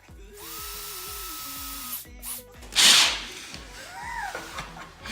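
A power drill bores holes for installing an APR front splitter and canards on a Subaru BRZ, whining in repeated short bursts that rise and stop, with a loud scraping burst near the middle as the bit bites into the material.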